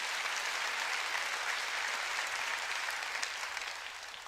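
A church congregation applauds during a Korean sermon with sustained, dense clapping that holds steady, then begins to fade toward the end.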